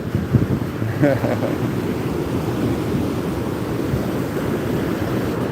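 Rough, angry waves on Lake Michigan in Chicago crash and surge on and on, with heavy wind buffeting the microphone.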